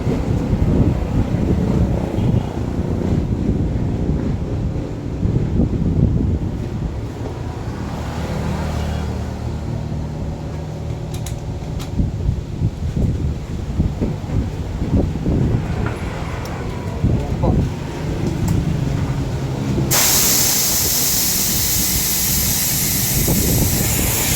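A Mitsushi air compressor motor runs steadily with a low, rough rumble and some wind-like noise, then a sudden loud, broad hiss takes over for the last few seconds.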